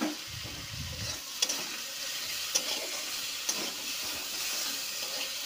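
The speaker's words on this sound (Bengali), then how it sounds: "আমি জল ছাড়া এইভাবে কষিয়ে নেব" Tomatoes sautéed dry in a pan with no water, a steady close sizzle with a few sharp clinks of a utensil stirring against the pan, continuous throughout with no talking.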